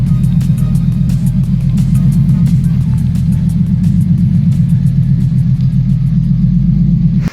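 A TVR 290 S car rumbles steadily close by as it drives around a yard, a continuous low engine drone with faint clicks and knocks above it, and no talk.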